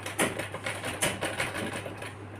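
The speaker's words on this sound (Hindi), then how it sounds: "इधर 2-3 सिलाई लगा लेनी है" A sewing machine runs steadily while stitching a small child's shirt, a continuous close mechanical whir with a soft repeating pulse of the needle and a low steady hum underneath.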